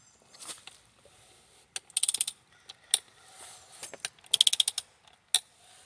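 A Ford 302 engine at a salvage yard turns over slowly, pushed by the wind, giving off quiet creaks and clusters of rapid ratchet-like clicks in irregular bursts with pauses between.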